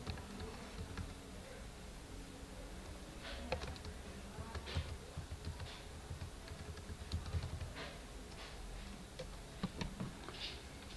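Keys on a computer keyboard are tapped at a relaxed, uneven pace, the faint clicks scattered over a low background hum.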